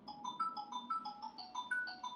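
A Blitzwolf BW-AT4 steel smartwatch triggers its find-phone function, making the phone ring with a quick repeating electronic melody of bright tones, steady and moderately loud, with no talking.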